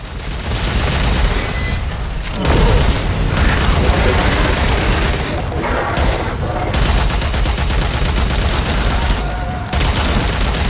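Rapid-fire, large-magazine gun in the video game Warframe unloads in long sustained bursts of dense, loud automatic shots with booming impacts, briefly pausing between volleys.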